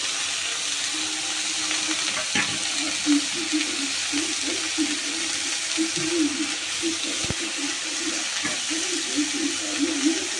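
Cabbage and carrot stir-fry in a pan with green chillies and egg, a soft, even sizzle running throughout with occasional light scrapes and taps of a spatula.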